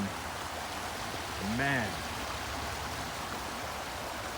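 A brook flows steadily beside a rocky barrier in a Connecticut garden, a continuous rushing wash of moving water, with someone briefly speaking over it.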